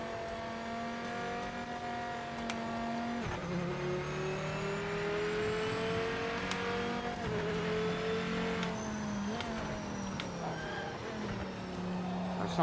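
Engine of a Viper race car in the Project Motor Racing video game, revving up through the gears with sharp drops at each shift, loud and sustained, brief talk faintly underneath.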